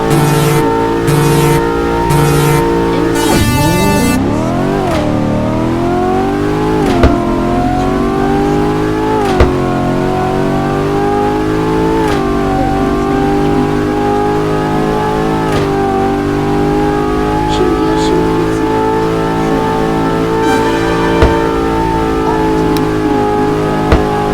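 Roblox racing game car engine, revving hard at the start, then a sustained loud acceleration drone with rising pitch sweeps and occasional sharp clicks, continuous and close, with no talk over it.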